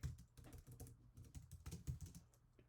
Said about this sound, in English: So let's go ahead and type in a to-do.